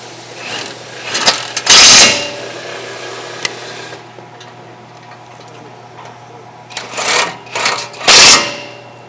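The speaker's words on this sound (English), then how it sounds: "And now with our gun, we're going to install everything back in." An impact gun drives front brake bolts on a 2015–2020 Ford F-150 in loud, short rattling bursts, one near the start and two near the end, with quieter shop hum between.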